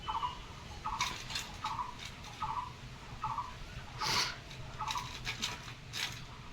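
Two pigeons feed, giving a run of soft, evenly spaced pecking taps and faint coos at close range, with a brief louder rustle midway and no talking.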